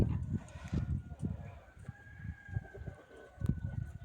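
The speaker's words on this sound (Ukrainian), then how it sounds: "Кури побігли щось шукати" Chickens roam a rural farmyard, giving low, scattered clucks and scratching sounds in uneven bursts at moderate distance, with a steady background hum and no one speaking.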